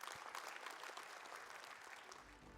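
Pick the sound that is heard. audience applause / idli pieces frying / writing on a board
audience applause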